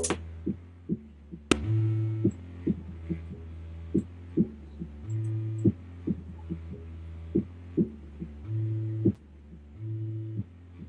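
Soloed deep bass line from a hip-hop beat, booming low notes in a repeating looped pattern with soft kick-like thumps, playing alone without voices.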